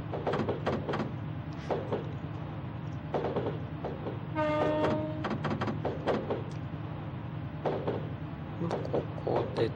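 A video game electric train, a Keihin-Tohoku-line 209 series, rolls along with rhythmic rail clicks, and a short horn tone sounds midway. Fairly quiet and steady.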